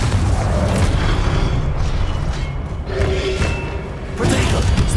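Spell blasts and explosions from Hogwarts Legacy thud and boom in quick succession, layered over dense combat noise while a voice speaks throughout.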